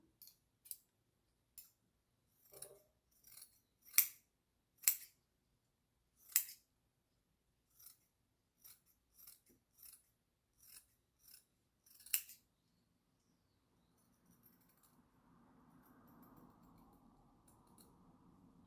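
Scissors snip through ramie fabric in a series of crisp, separate cuts, about a dozen close-up clicks and slices at an uneven pace. After the cutting stops comes a soft, low rustle of the cloth being handled.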